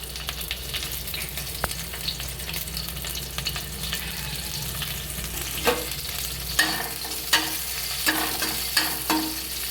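Black cumin seeds and chopped green chillies sizzle in hot oil in a pan, a steady frying hiss with occasional sharp scraping stirs growing more frequent toward the end, with no talking.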